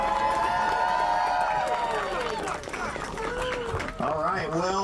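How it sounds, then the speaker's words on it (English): A crowd at a Groundhog Day gathering in Marion, Ohio cheers and shouts for the groundhog Buckeye Chuck, loud overlapping voices and whoops rising and falling across the moment, with scattered clapping mixed in. "Let's give Chuck one more round of applause."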